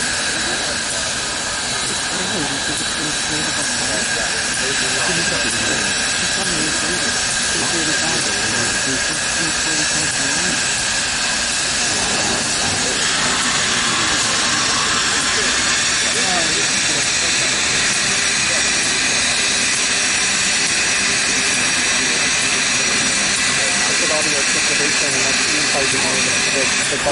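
Union Pacific Big Boy 4014, an articulated steam locomotive at Rochelle, Illinois, hisses loudly and continuously for the whole stretch, a broad steady roar of venting steam with voices talking beneath it.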